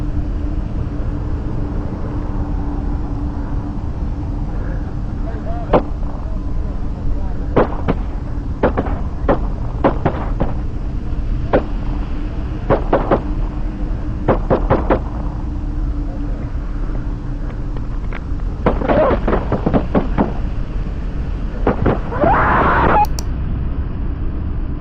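Gunshots from an M1 carbine fired repeatedly at a police officer, heard as a series of sharp, loud cracks in irregular clusters over a continuous vehicle-like rumble, with shouting near the end.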